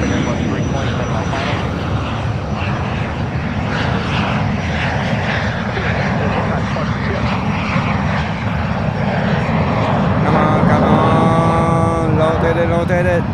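Fixed-wing airliner taking off from runway 10L at Fort Lauderdale (FLL) airport, a loud sustained jet engine roar throughout, with a rising whine toward the end and talk faintly underneath.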